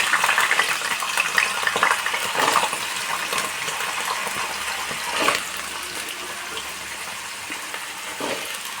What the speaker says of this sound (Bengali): তিল পোস্তর জন্য প্রথমে আমি আলুগুলো ভেজে নেব।